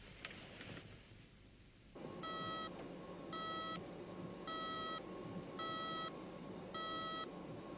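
An electronic alarm from a 1970s science-fiction TV series signals a detected bugging device, sounding a regular pulse of sharp, evenly spaced beeps over a steady humming drone after a brief quieter stretch.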